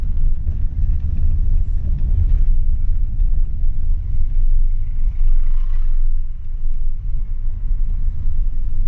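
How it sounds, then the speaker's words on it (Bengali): A car travels the mountain road near Ghum station outside Darjeeling, giving a steady, close, low engine and road rumble that runs unbroken for the whole stretch with no voices. "ঘুম স্টেশন ক্রস করে এগিয়ে যাচ্ছি গাড়ি।"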